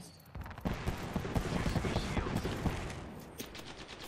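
Sustained rapid gunfire from the video game Apex Legends, loud and close, with dense bursts of shots running through most of the stretch before tapering into scattered reports near the end.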